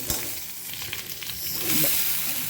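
Mustard seeds, peanuts, green chillies and curry leaves fry in hot oil for sabudana upma, giving a steady close crackling sizzle with faint stirring throughout.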